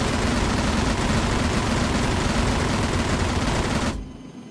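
Continuous loud machine gun fire in a co-op video game, a dense unbroken stream of rounds for about four seconds before it cuts off, leaving a quieter rumble.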